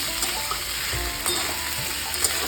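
Snake gourd frying in a pan with salt added, a dense steady sizzle close by with a few soft stirring bumps through the short stretch.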